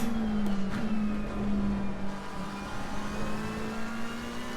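McLaren 720S GT3 race car in Assetto Corsa Competizione at Donington Park, engine droning loud and close at a steady pitch with a brief dip near the start, then holding as it runs, no talking.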